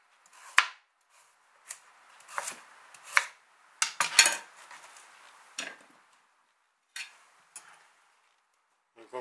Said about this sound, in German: Dann schneiden wir die Enden ab.